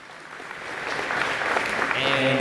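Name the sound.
audience applause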